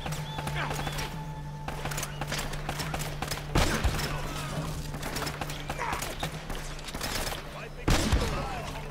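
Gunfire in Uncharted: Drake's Fortune cracks out in two sharp, loud bursts spaced several seconds apart over a busy game soundscape with a steady low hum and some voice activity.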